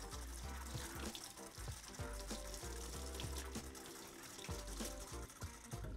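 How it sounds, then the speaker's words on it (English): Cold tap water runs steadily as an apple and a banana are rinsed in a kitchen sink, a continuous faint splashing with soft irregular thumps of fruit being turned in the stream, no voices. "before we start cutting the apple and banana, we're gonna go ahead and rinse them off."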